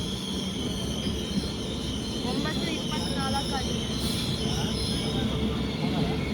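A fast passenger train running from Hubballi toward Srisailam pulls into Koppal railway station with a steady, loud rolling rumble and faint wheel squeals, and voices murmur underneath throughout.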